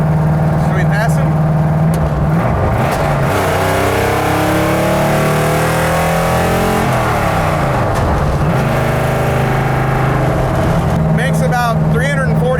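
An old, long-abandoned Dodge Daytona wing car making about 340 horsepower, with Edelbrock heads and dual Holley 4160 carburetors, roars loud and close on the road, its engine pitch climbing and falling through repeated accelerations and gear changes.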